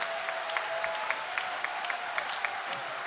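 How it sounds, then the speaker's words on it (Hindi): Audience applause at a Hindi poetry recital (kavi sammelan), dense steady clapping from a crowd in a hall, sustained and fairly close with no pauses. "एक बार जोरदार तालियां"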